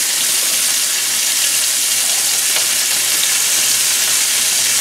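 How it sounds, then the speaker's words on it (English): Onions sizzling in a skillet over turned-down heat, a loud, even hiss of frying that runs steadily from start to finish, with a faint low hum underneath and no talking. "I'm going to let the onions go a minute or so."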